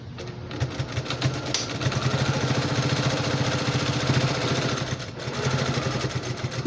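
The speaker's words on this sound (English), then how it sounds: "I'm going to sew straight across this line." A sewing machine stitches a seam across a quilted basket, running as a close, steady rapid whir and needle clatter that pauses briefly before starting up again.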